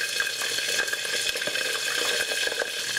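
Pork sputters and crackles in hot oil for lechon kawali as water is stirred in, a steady dense sizzle with small irregular pops throughout, close and fairly loud.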